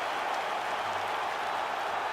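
Crowd applause and cheering in a UFC fight simulation video game after a five-round bantamweight main event, a dense, steady roar of clapping with no break, heard without voices.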